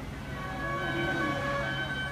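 A wailing emergency siren sounds steadily at a distance in Barcelona, Spain, faint and continuous under a constant low rumble of traffic noise.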